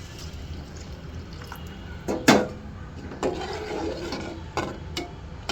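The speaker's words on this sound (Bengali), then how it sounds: "এরপর এখন আমি পানি দিয়ে দিব।" Water poured into a pot of taro and small hilsa curry, a brief splashing pour and sputter over a background hiss, followed by a few softer knocks and splashes.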